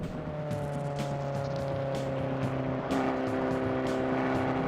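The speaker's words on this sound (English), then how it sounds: "But now we're driving the Abarth 500. In fact, it's the Abarth Cabriolet." A Fiat Abarth 500 Cabriolet engine drones steadily from inside the car while driving, with a constant low hum, tonal engine harmonics and a slight pitch shift partway through, no voices.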